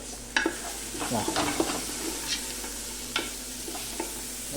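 Tomato and other ingredients stirred in a hot pan while preparing Saudi mandi rice, with steady close sizzling and scattered scraping spoon strokes throughout and no talking.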